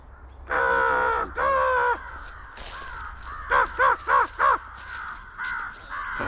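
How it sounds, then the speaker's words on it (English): Fish crows caw near a coast: two long harsh calls, then a rapid series of four short caws and a couple more, loud and close with no talk. "It's the fish crows too."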